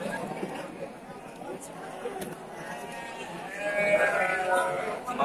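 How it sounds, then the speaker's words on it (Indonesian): Local, non-crossbred sheep bleat repeatedly at a weekly livestock market in Bumiayu, with several overlapping calls growing louder toward the end above a steady bed of crowd chatter and people talking nearby. "Ini domba lokal."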